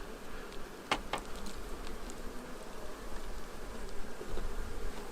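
Honeybees hum inside a hive, with a dense, steady drone close by, a couple of sharper buzzes of single bees passing near the start, and no talk.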